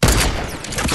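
A close, loud burst of gunfire in a Fortnite match fills a single second with rapid cracking shots.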